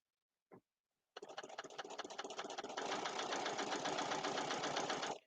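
A sewing machine stitches a bordered potholder in a steady, fast run of rhythmic needle clatter that stays close and even for several seconds after a brief tap.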